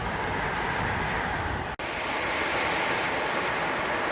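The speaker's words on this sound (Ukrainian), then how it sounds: "а дощ все більше і більше, більше і більше" Steady, increasingly heavy rain falling and pattering on surfaces, dense and continuous with a brief dropout partway through.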